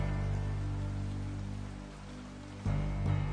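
Rain falls steadily in an anime street-racing scene, a constant hiss under a low hum, with a brief louder swell near the end and nobody speaking.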